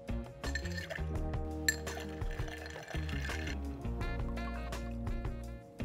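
Bourbon, Old Forester 1910, pours into a glass of ice, with liquid gurgling and ice cubes clinking and cracking close up.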